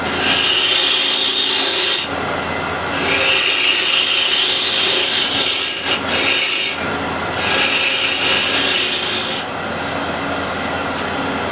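A hand tool rasps and scrapes continuously against a wooden workpiece as a cove is shaped into it, loud and close, in long strokes separated by brief pauses.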